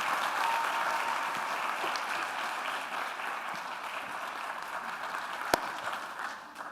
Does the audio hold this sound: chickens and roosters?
no